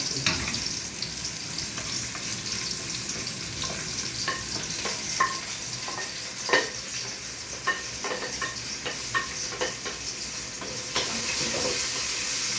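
Garlic, onion and ginger sizzle steadily in a pan, a broad hissing fry with scattered light stirring scrapes, close and continuous without talk.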